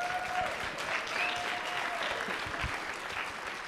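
Steady audience applause at a women's diversity and inclusion speaking event, a continuous wash of many hands clapping, fairly distant and even, with faint background sounds.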